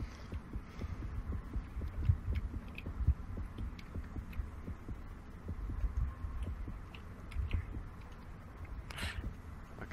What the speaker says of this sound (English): they'd hear heartbeats most of the time